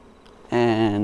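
Honeybees drone around an open hive during frame inspection, a dense steady hum that swells suddenly halfway through and holds close and loud.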